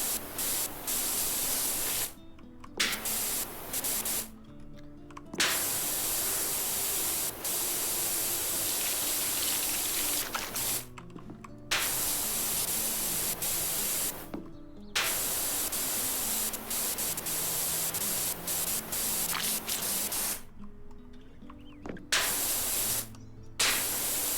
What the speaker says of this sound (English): all the water I was spraying around them to clean their rods